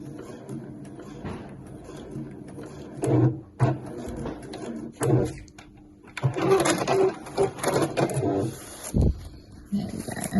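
A sewing machine stitches around heart shapes on a placemat in short, uneven bursts of buzzing with pauses between them, close by and moderately loud.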